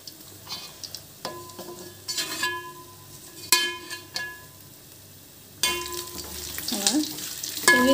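Green chillies and curry leaves fry in hot oil for jeera rice, a crackling sizzle that swells and fades with spoon stirs, surging louder near the end.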